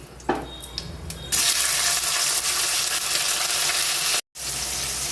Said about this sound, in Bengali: এবার টমেটো আর কাঁচা লঙ্কাটা দিয়ে দিচ্ছি